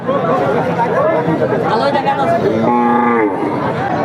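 At a busy cattle market, a cow gives one drawn-out moo near the end, heard over constant crowd chatter and nearby talking.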